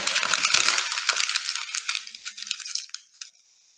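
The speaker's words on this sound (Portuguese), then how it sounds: "Amassem bem a folha." A sheet of sulfite paper is crumpled firmly by hand, giving a dense, loud crackling that thins into scattered crinkles and fades out near the end.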